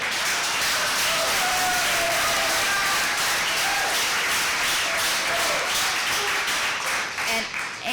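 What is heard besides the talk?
audience clapping at a town council meeting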